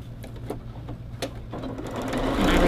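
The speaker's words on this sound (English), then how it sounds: "So I'm going to go ahead and stitch these together." A sewing machine stitches two quilt leaf blocks together with a quarter-inch seam. It begins with a few slow separate needle thumps, then runs into a steady close whirring hum that grows louder.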